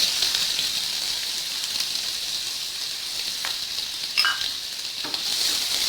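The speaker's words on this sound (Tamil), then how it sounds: "இதை லைட் ப்ரௌன் கலர் வர வரைக்கும் வறுத்துக்கலாம்" Two large, finely chopped onions sizzle steadily in a pan of hot oil while being fried to light brown for a paneer gravy, with a few soft stirring scrapes over the continuous crackle.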